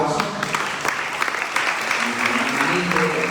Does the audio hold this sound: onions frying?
no